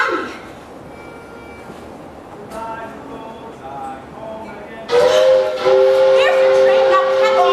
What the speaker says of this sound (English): Here's your train.